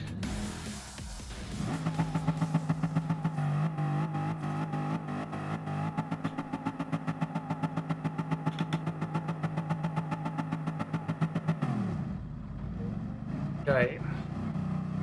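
A Bugatti Veyron engine in Gran Turismo Sport, starting a race from 15th place, holds a loud, steady droning rev with a fast pulsing beat, then drops away abruptly near the end.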